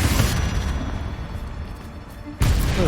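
Confringo fire spell blast in Hogwarts Legacy combat inside a cave, a heavy rumbling boom that decays over two seconds before a second loud burst hits.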